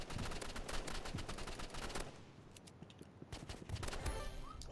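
Rapid bursts of gunfire from the video game Rivals, dense repeated shots for about two seconds, then a brief lull with a few scattered shots before heavier firing returns, with faint keyboard-like clicks underneath.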